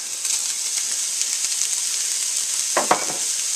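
Cumin, paprika and chopped drained raisins sizzle in a pan with cooked mashed potatoes, giving a steady close frying hiss with a couple of brief stirring scrapes near the end, and no talking.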